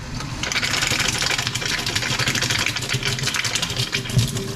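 A newly installed kitchen garbage disposal runs under a sink with a steady mechanical whir and hum, close and continuous, with no voices.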